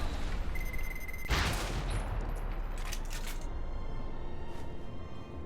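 Gunfire in a video game: a sharp, loud burst of shots with a thudding impact, followed by scattered fainter cracks over a constant background hum.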